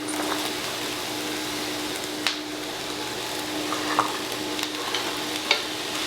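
Carrot and celery fry in a pan with a steady sizzle, while a spoon stirs them now and then, giving a few sharp knocks over the continuous hiss.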